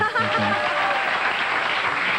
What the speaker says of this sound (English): That's a nice cue for you to applaud.